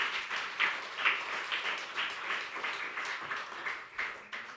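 A church congregation applauding, with steady, moderately loud clapping from a crowd that pulses in uneven waves for several seconds, without speech.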